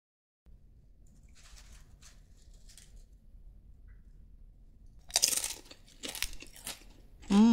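Homemade banana chips crunched between the teeth, with faint chewing at first and then several loud, close, crisp bites near the end.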